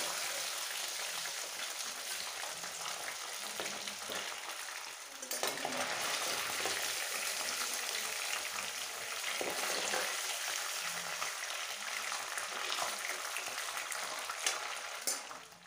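Chicken pieces fry in hot oil for chicken manchurian, a steady broadband sizzle with occasional stirring and spattering bursts, loud and close, with no talking.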